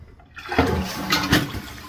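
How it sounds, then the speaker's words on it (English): Toilet flushing after a flush valve replacement, with a loud rushing gush of water starting abruptly and a second surge, close and alone without talk. "We're flushing now. Sounds good."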